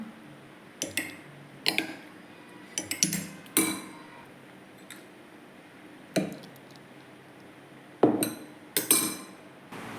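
A spoon stirs basil seeds into tender coconut juice in a glass, giving close, sharp clinks in irregular bursts with quiet pauses between them, and no talking.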